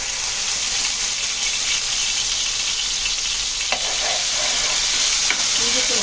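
Ginger garlic paste frying in hot oil for a Hyderabadi chicken recipe, giving a loud, continuous bright sizzle with a couple of small pops and stirring clicks, no voices.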